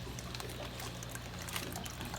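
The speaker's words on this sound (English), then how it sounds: "I'm gonna fill these bags up little by little until they start to overflow" Water trickles and pours steadily into plastic bags holding fish being acclimated to tank water, a continuous close, soft liquid stream with no talk.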